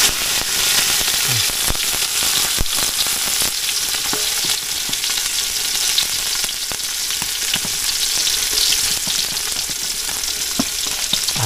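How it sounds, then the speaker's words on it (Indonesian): Fish frying over a low flame in a pan with just a little oil, a loud close sizzle crackling and popping continuously with scattered sharp spits. "Sekarang kita goreng ikan teman-teman. Jadi untuk menggorengnya ini usahakan dengan api kecil dan juga minyak yang sedikit."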